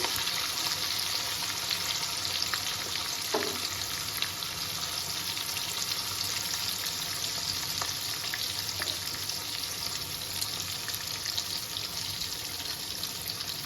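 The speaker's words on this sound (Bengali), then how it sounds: "এবার এটাকে আমি ভালো করে ভেজে নেব" Sliced onion and chilli with bay leaf fry steadily in hot oil for mutton curry, a dense continuous sizzle and crackle close by, with a single clink of a spoon partway through.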